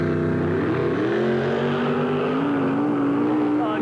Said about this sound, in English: And Gene got a monster hole shot there.